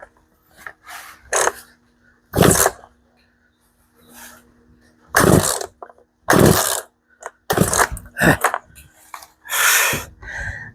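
A Poulan chainsaw with its choke set about halfway is pulled over repeatedly in sharp, separate bursts of cord rattle and ratcheting, with short pauses between tugs and no steady engine run.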